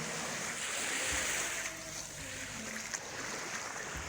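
Broad, steady wash of ocean surf and wind noise at a beach, rolling and hissing continuously at close range, with no voices.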